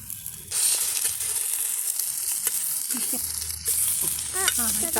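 Marinated fish pieces laid one by one onto a hot tawa over a wood fire, village style, setting off a loud, steady sizzle and hiss that swells as each piece lands, with soft scraping and small clinks.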